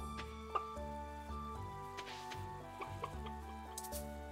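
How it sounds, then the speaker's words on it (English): Chickens cluck on a farm inside a video game, with short squawks popping up over steady background music and tones. "The new farm comes with 2 chickens."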